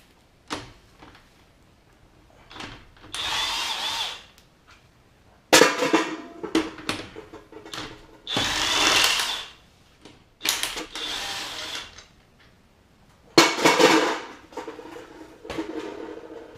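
Bursts of an impact or power tool spinning lug nuts off a raised Jeep's wheel in a home garage, several separate whirring runs of a few seconds each with short pauses between them, close and fairly loud.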